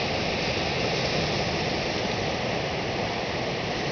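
Steady broadband wash of ocean surf rolling near the path at White Point Resort, a continuous even roar with no breaks or voices.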